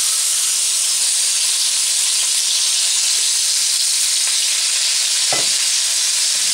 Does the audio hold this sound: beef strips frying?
yes